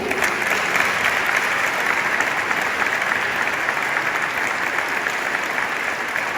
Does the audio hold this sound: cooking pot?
no